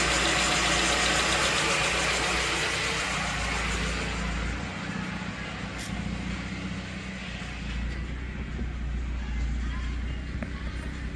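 A warm car engine with a carburetor idles steadily at lowered RPM, giving a continuous, even, close mechanical hum with a faint knocking texture and no pauses.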